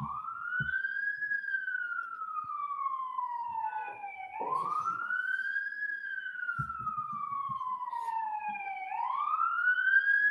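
An emergency vehicle siren near a courthouse wails in slow rising and falling sweeps that repeat steadily, loud and sustained, with faint low thumps beneath and no one talking.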